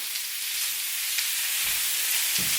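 Meat frying in a very hot pan, a continuous bright hissing sizzle at steady close volume, with a couple of soft utensil bumps as it is stirred, no voices.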